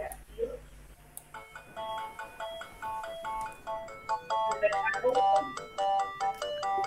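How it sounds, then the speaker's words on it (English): A phone rings with an incoming call from the bank, a bright melodic ringtone repeating its tune loudly after a brief pause, with faint voices underneath. "I think that's the bank on the phone right now."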